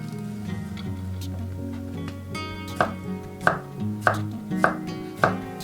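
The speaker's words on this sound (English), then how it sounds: "Now we're gonna cut both ends, slice in half." Knife slicing a cucumber on a cutting board for a spicy Asian-style salad, with a series of sharp, evenly spaced chops over a low steady background hum.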